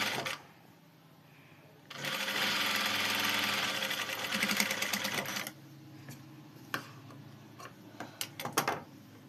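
A sewing machine stitches a folded blouse edge in one burst of rapid, close whirring for a few seconds, framed by quieter handling noises and clicks before and after.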